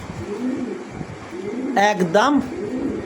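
American fancy pigeons coo in soft, rolling low calls, a few close phrases with a brief brighter burst near the middle, while someone speaks briefly.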